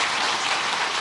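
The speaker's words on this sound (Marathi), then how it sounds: "जोरात टाळ्या मारून आपण त्याचं स्वागत करूया." An audience applauding to welcome a guest at an event, a dense, even wash of clapping from many hands, loud and unbroken across the brief moment.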